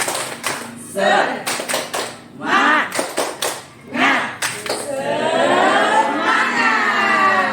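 A group of teachers at a school session does a rhythmic Indonesian clap chant, bursts of patterned clapping alternating with shouted chanted words, ending in sustained cheering and clapping, loud and close.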